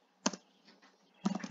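Short bursts of key clicks from typing on a computer keyboard, one quick tap followed after a pause by a faster cluster of keystrokes, close and fairly quiet.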